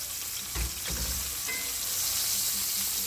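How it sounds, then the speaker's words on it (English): Chicken pieces pan-frying in avocado oil and ghee for chicken Marsala, a steady close sizzle with a few soft stirring knocks and no talking. "in the pan, I have avocado oil and ghee. And I'm pan cooking them so they get nice and brown."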